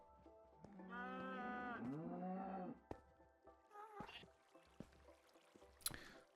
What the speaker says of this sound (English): I've managed to get myself 4 cows.